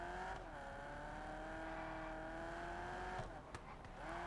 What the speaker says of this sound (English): I had to stop for a little bit so you could hear this car. It sounds really nice.